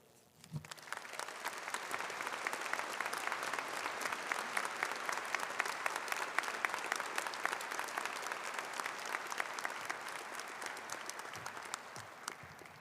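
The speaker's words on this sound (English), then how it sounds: "Let's give another round of applause to our Chancellor." A graduate commencement crowd breaks into sustained applause after a short quiet start, clapping holding steady and full for over ten seconds with scattered sharp individual claps.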